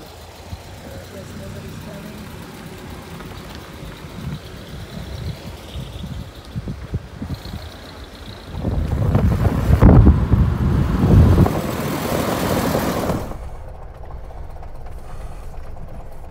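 A Ford Model A car engine runs at a low idle, then revs up louder as the car pulls away and drives for several seconds before the sound cuts off abruptly; a person speaks over it.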